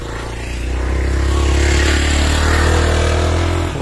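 A motorcycle approaches on a hill road, its engine swelling to a loud, close drone that holds steady before easing slightly at the end.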